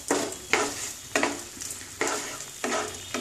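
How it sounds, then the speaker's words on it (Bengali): Spice masala frying in a pan for Bengali yogurt cauliflower, with a soft steady sizzle broken by four or five rhythmic scraping strokes of a spoon stirring it. "এবারে মশলাটা একটু কষবো"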